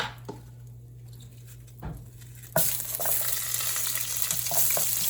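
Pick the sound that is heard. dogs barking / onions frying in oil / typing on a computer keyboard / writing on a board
onions frying in oil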